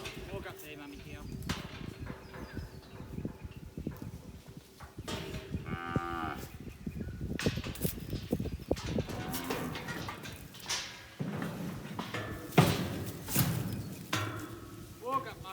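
Cattle moo repeatedly while being mustered down a mountain block, several deep calls near and farther off, mixed with a voice urging the herd along and some outdoor bird sounds.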